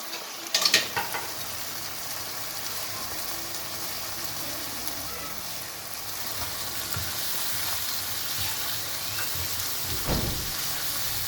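Peas tip into a pan of softened tomatoes for chicken macaroni and sizzle steadily while being stirred, with a brief clatter near the start and another around the ten-second mark.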